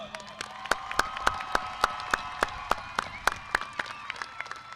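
At a high school graduation, the crowd claps for the graduating students with loud, distinct individual claps close by, over a background of crowd cheering and murmur.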